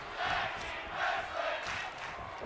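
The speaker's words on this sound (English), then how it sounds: "Crowd chanting for tag team wrestling." Crowd chanting in a WWE wrestling video game during a tag team match, a steady roaring swell of many voices rising and falling in waves, moderately loud and continuous.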